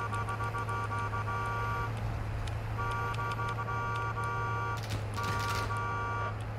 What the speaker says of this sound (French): Déjà ne serait-ce que dans le son du klaxon quoi.